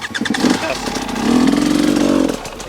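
A hard enduro motorcycle engine runs close by, rumbling and rising into a sustained rev before dropping away, with someone talking over it.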